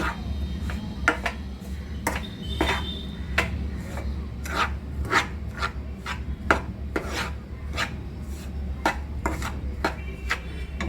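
A spoon scrapes and rasps through a roasted semolina and gram flour mixture in a pan, prepared for dry fruit besan rava modak, in repeated short strokes with an irregular rhythm over a low background hum.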